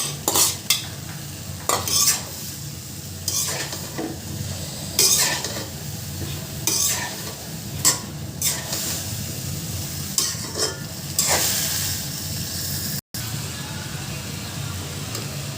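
A white vegetable bhaji with added tomato fries in a pan, with a constant close sizzle broken by repeated scraping stirs of a spatula every second or so.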